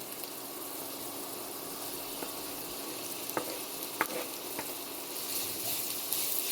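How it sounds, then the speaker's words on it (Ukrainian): Mushrooms go into a pan of sizzling carrot and onion, giving a steady close frying hiss punctuated by a few light taps and clicks, growing slightly louder toward the end, with no talk. "Буквально 30 секунд протушкувалася морка з цибулею і вкидаємо грибочки"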